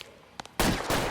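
Gunfire from the L.A. Noire game: two quick faint shots, then a loud close burst of rapid shooting with no talk.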